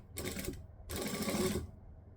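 A sewing machine stitches one continuous seam around a pair of wrap pants in two short bursts of rapid whirring, the second longer, with quiet gaps between.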